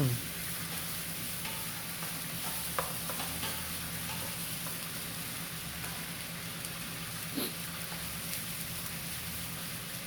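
A T-bone steak fries in a hot cast iron pan at a US military base, sizzling steadily and loudly throughout, with occasional small pops and crackles.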